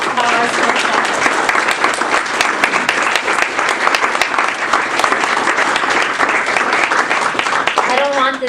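A lecture audience breaks into loud, sustained applause, dense crisp clapping filling the room at an even level, with a speaking voice faintly heard at the start and end.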